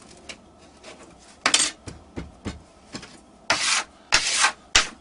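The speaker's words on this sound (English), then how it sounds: "Scrape the clay off the top of here." Scraping clay off the top of a silver ring mould makes repeated gritty, rasping strokes of varying loudness, close up and with no talk.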